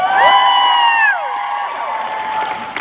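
A convention panel audience at NashCon cheers loudly, with overlapping whoops and high shouted voices in the first second, then a sustained, slowly fading crowd cheer.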